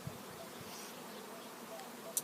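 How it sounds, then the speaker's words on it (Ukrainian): Bees circling near a freshly arrived swarm make a soft, steady buzzing that hums faintly in the background, with a few brief closer passes. "там ще бджоли крутяться"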